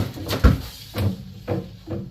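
A bottom freezer drawer holding pork hocks slides open, making a few dull thumps and scraping knocks close by, with no voices.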